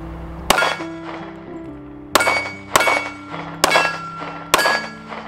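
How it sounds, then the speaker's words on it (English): A Smith & Wesson M&P 10mm pistol fires 40 caliber rounds: five sharp, ringing shots, one single report followed after a pause by four more in a steady, evenly spaced string, loud and close. "It's actually a rather pleasant shooting gun in 40."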